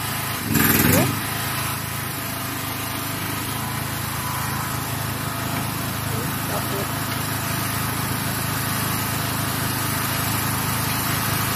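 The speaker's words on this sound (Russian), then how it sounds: "Вот так вот с помощью станок работает." A machine tool runs with a steady, loud mechanical drone, with a brief louder burst near the start.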